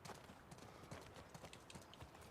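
Horse hooves clip-clop in The Last of Us Part II, a faint, steady run of soft knocks under game ambience, ending in a sharp bright click.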